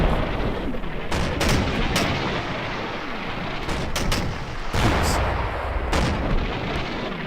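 Mortar team firing in the World War II strategy game Combat Mission: Market Garden, a dense, loud barrage of booming blasts and crackling fire, sharp reports recurring over a constant rumbling battle background.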